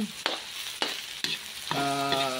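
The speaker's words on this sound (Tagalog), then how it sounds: "gigisa ko dyan yung sahog nating tokwa instead na karne" Tofu hits a hot pan with ginger, garlic and onion, giving sharp bursts of sizzling frying and stirring, three quick scraping strokes and then a steady loud hiss with a ringing metallic tone near the end.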